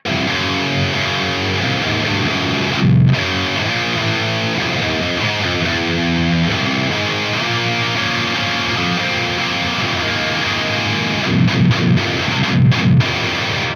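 Distorted metal electric guitar riffing through a Jensen Electric Lightning speaker, miked at the center of the dust cap, loud and continuous, with chugging low notes and a bright, fizzy top end.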